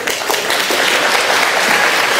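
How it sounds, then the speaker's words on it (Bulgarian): A studio audience bursts into loud, dense applause, a continuous close wash of many hands clapping that stays full and even through the short burst. "Аплодисменти за нашата беззащитна жена, дами и господа."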